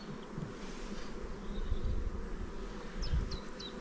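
Honeybees at a hive fanning their wings after a shook swarm, a steady close droning buzz with a few brief higher chirps from individual bees.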